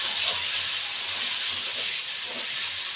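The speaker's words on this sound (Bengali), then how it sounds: "দিয়ে দেওয়ার পর একটুখানি ভাজবো" Boiled potatoes fry in a pan as part of a fish chorchori with onion stalks, giving a steady, even sizzling hiss that carries on without a break.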